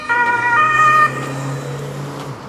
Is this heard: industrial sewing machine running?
no